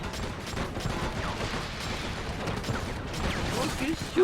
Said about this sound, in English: Look, he's shooting at the wall!